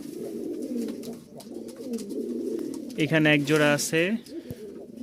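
Pigeons kept for sale in Mirpur coo in low, throaty rolling calls close by, with someone talking over and between the cooing.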